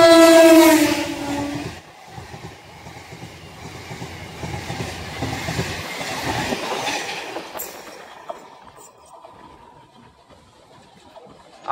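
A train rolls past on a railway line, opening with a loud horn blast, then a steady rumble of wagons and wheels that fades toward the end, heard without speech.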